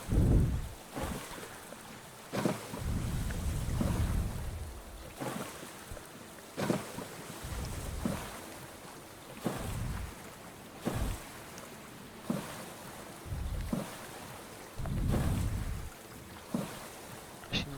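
In the survival game Stranded Deep, a storm approaches at sea with gusting wind and rolling waves, surging in loud rhythmic swells every couple of seconds with heavy low rumble and wind buffeting.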